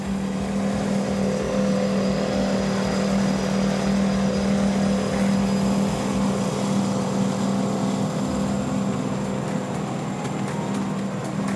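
A Cigarette 42X powerboat with Mercury Racing 1100 engines runs at a steady, loud, continuous drone, its deep engine hum holding constant with wind and water rush layered over it and no voices.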